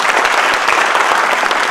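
An audience at a Hindi kavi sammelan poetry event bursts into loud, dense applause, a continuous close wash of clapping hands throughout.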